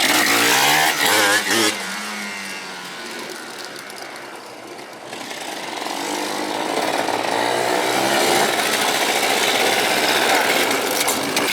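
A Yamaha Blaster 200 ATV two-stroke engine running roughly with a loud, rattling buzz that dips and then swells back up, close by, with voices faintly underneath.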